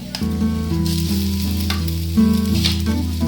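Boiled mashed potato dropped into a sizzling pan, giving a loud, close, continuous fry with a brief surge as it lands, no voices.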